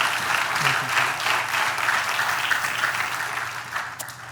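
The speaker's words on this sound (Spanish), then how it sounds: "¿Puedes darle un aplauso al Señor?" A church congregation applauding during a Spanish-language sermon on Jesus healing a paralytic, a dense, even wash of clapping at moderate distance that fades slightly toward the end.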